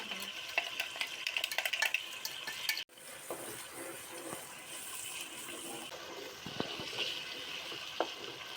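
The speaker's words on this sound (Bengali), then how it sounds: "আমরা কিছুক্ষণ থেকে মশলাটাকে কষিয়ে নেব" Spice paste of blended fried onion, sugar and water sizzles and scrapes in a pan for chicken biryani, with a spoon stirring steadily and occasional clinks, no talking.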